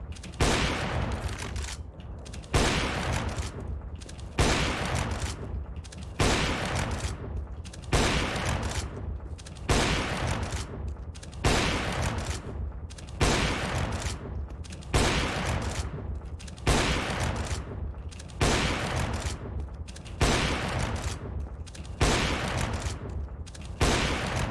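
Sniper rifle shots fired repeatedly in Counter-Strike: Global Offensive during an aim warmup, loud sharp cracks with ringing tails coming at a steady rhythm about every one and a half seconds, alone with no talk.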